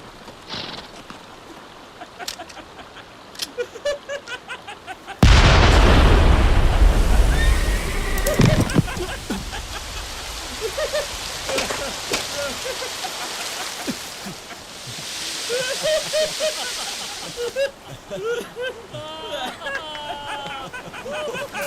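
RPG rockets fired into water in a video game: a sudden loud blast and heavy splash, followed by sloshing water, further bangs and whistling effects, with voices talking throughout.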